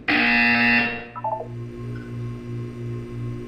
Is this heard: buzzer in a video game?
yes